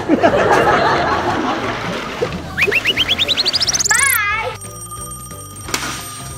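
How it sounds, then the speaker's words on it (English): A toy telephone rings in a kids' pretend mechanic shop: a rapid series of rising electronic chirps, then a warbling tone and a steady beeping, loud and close, with a voice briefly at the start. "It's the phone."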